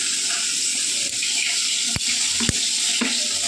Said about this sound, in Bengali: দিয়ে দেবো এই জল দিয়ে একটু গুলিয়ে নিতে হবে